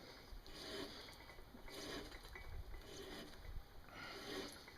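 A hand tap cuts an 85% thread into metal for a small forge build. It gives a steady grinding, ratcheting scrape with slight rhythmic surges as the tap turns, close and continuous, with no talking.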